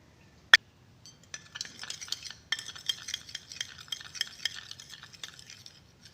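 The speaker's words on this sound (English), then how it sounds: "this is the scrub that I've prepared by adding coconut oil into coffee powder" Coffee powder and coconut oil being stirred into a scrub with a utensil: a sharp clink, then a steady run of close scraping, tapping strokes against the bowl.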